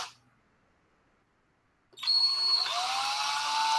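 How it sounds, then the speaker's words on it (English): A small hand or power drill bores a hole into a miniature figure where its arm will plug in, starting abruptly after a quiet pause as a steady, close, high-pitched whirring whine that holds and shifts slightly in pitch. "I'm going to drill a hole into where the arm is going to plug"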